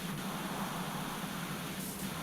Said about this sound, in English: I can just spray it with the red nozzle